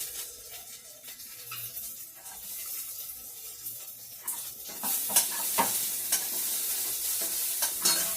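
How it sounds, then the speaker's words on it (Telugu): Onions, half of a large onion sliced, frying in a pan and being stirred, with a soft sizzle that grows louder and busier midway, punctuated by repeated sharp scrapes and clatters of the spoon against the pan. "ఉల్లిపాయలు వేగిపోయినాయి కదా"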